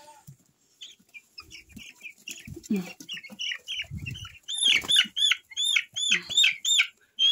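A thirteen-day-old white broiler chick is picked up and handled, letting out a run of high, rapid cheeping peeps that grow louder and more insistent, with a few soft rustles and muffled handling thumps close by.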